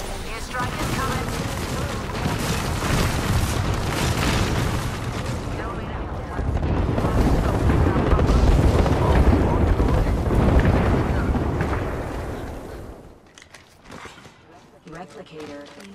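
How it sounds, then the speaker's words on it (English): Heavy airstrike explosions in the battle royale video game Apex Legends, a long dense barrage of loud booming blasts that rumbles for about twelve seconds before cutting off abruptly, with game voice lines mixed in. "Airstrike is coming."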